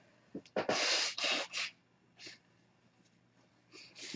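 A person blowing their nose during a livestream, two strong honking blows in quick succession followed by a few shorter sniffs and snorts, close to the microphone with no talk.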